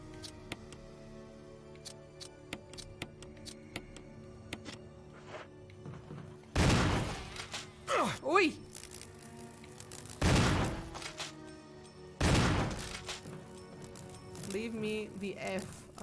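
Three loud, booming shotgun blasts fired at enemies in Resident Evil 1, spaced a few seconds apart over quieter game sounds, with a voice reacting between shots.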